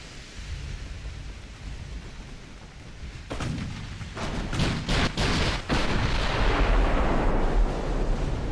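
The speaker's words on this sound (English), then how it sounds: "Ooh, big hit on one of mine. We got an ammo detonation." Heavy naval gunfire and an ammunition detonation in the warship battle game Ultimate Admiral: Dreadnoughts roll in as a swelling roar, with a burst of sharp cracks midway and then a sustained rumbling blast.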